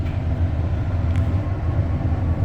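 REM light metro train rolling toward Brossard station on an early, quiet ride, a steady low rumble with constant wheel and motor drone heard from inside the car, no voices.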